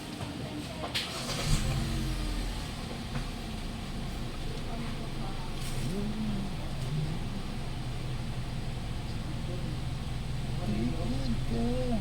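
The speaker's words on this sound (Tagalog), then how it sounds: "titingnan natin kung stable na yung idling at hindi lang namamatay yung makina" A Hyundai Accent 1.4 engine idles steadily after a coil and spark plug replacement and throttle body cleaning, a low continuous rumble with faint birdsong over the top and no talk.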